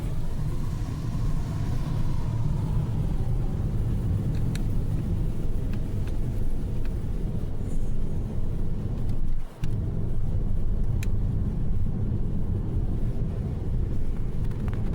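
A car in sport mode accelerates along a road on the way back toward Black Hawk and Central City, heard from inside as a steady low engine and road rumble with some wind noise and no talking.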